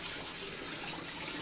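A submersible LED light is lowered into bathtub water, and a continuous close hiss of splashing, running water fills the brief moment.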